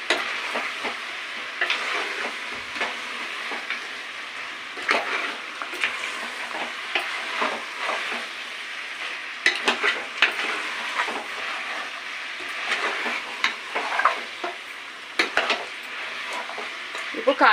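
Pre-boiled mutton being stirred in a hot pan, with steady sizzling and frying under repeated scraping and clinks of a metal spoon against the cookware, close and fairly continuous.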